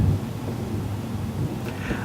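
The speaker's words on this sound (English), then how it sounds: "Storm must be approaching." Low rumbling thunder from an approaching storm outside, heard indoors as a dull, continuous roll with a faint crackle near the end.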